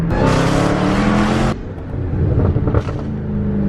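Nissan GT-R on a new tune, driven hard: a loud, close engine roar for about a second and a half that cuts off suddenly, followed by lower rumbling and a few sharp exhaust crackles and pops.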